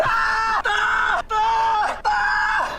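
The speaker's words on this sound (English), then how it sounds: "He's screaming in like multiple back to back." A man screams repeatedly, four long loud strained cries back to back with brief breaths between them.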